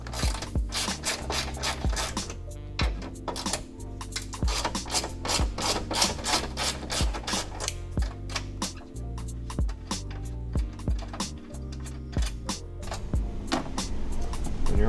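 A tool works the hood bolts on a 2020 Mazda MX-5 RF, making a steady run of close metallic rasping and ratcheting clicks that continues without pause.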